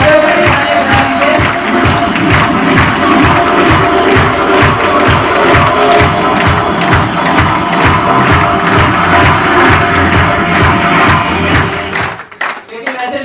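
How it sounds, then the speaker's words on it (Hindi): A standing crowd at a gathering in Nepal delivers a loud, sustained ovation, with dense rhythmic clapping mixed with cheering and shouts, steady for about twelve seconds before abruptly cutting off. "जोरदार तालियां और खड़े होकर तालियां बजाएंगे।"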